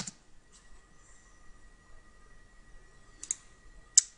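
Computer mouse clicking on a Windows Server 2008 machine, with a few sharp, isolated clicks spaced seconds apart over a faint steady electronic hum in a quiet room.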